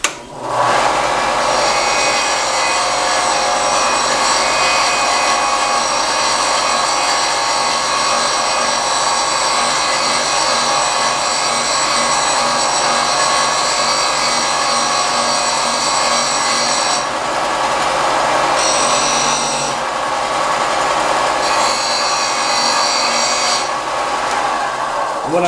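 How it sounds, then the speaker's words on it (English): Continuous rasping of sandpaper worked by hand over a bamboo rice tube, close and loud with a steady scratchy texture and brief pauses near the end. "So I'm just going to quickly sand this down."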